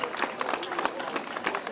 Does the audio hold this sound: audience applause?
yes